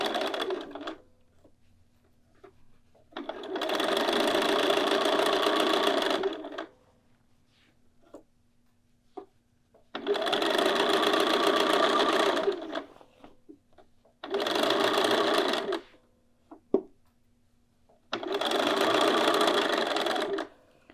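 A domestic sewing machine stitches a shoulder seam in four steady whirring bursts of several seconds each, separated by quiet pauses, close and loud with no talking.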